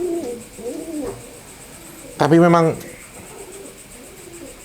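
A racing pigeon from a Yogyakarta breeder's loft gives one short, loud coo in the middle, with quieter calls and men chatting in Indonesian before and after.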